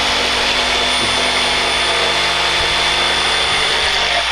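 A Sawzall reciprocating saw cuts through a swing set frame, giving a continuous harsh buzzing whine that stays steady and fairly close for several seconds with no voices.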